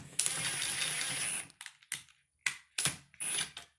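A torque wrench ratchets while tightening the cover screws on a Cisco CGR1240 router. One long continuous ratcheting run is followed by several short, close clicking bursts separated by brief silences.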